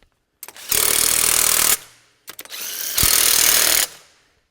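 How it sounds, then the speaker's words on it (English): Cordless impact driver fastening nuts during a Toyota Tacoma track installation: two loud close bursts of rapid hammering, each lasting over a second, separated by a brief pause. "I'm just going to use this nut driver, or cordless impact, I guess"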